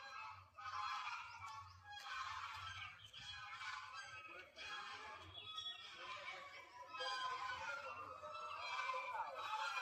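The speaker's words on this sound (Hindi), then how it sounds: "देखिए, यहाँ पर बतख है और एक कितना शोर कर रही है बतख।" Repeated loud honking calls from ducks at Kanpur Zoo, several birds calling in overlapping bursts over a continuous low hum of background noise.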